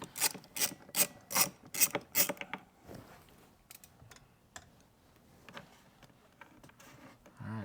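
A T20 Torx driver backing a screw out of Tesla Model Y B-pillar trim, a run of sharp ratcheting clicks in quick bursts close by, followed by faint rubbing and handling noises.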